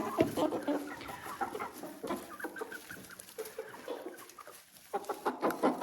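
Chickens fed a grain mix topped with compound feed cluck and chatter steadily close by, a busy flock of fowl with occasional louder calls and soft scratching throughout.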